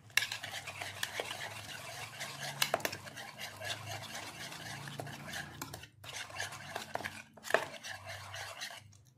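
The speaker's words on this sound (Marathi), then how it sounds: "इथे आता आपण छानपैकी ते मिक्स करून घेणार आहोत" Biryani ingredients with chilli powder and salt mixed in a pot, giving repeated scraping and stirring strokes with light clinks of a utensil against the metal, steady and close, with no talking.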